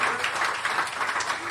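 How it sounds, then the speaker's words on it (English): Live concert audience applauding at The Carleton, a steady wash of many hands clapping at even loudness, crowd-wide and sustained through the moment without distinct voices. "Please give a warm round of applause"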